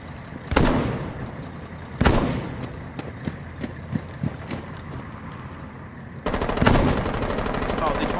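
Gunfire in the tactical shooter game Rainbow Six Siege: sharp, loud single shots at the start and middle, a scatter of smaller impacts, then a sustained burst of rapid fire near the end.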